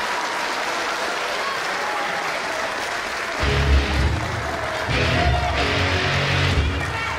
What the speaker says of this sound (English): And the crowd showing some appreciation for a man who deserves every bit of it.